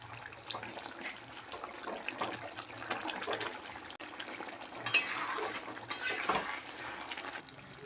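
Katla fish head curry with potato, dusted with garam masala, stirred in a pan: soft scraping and sizzling with a couple of brighter utensil clinks near the end, close and moderately quiet, no talk.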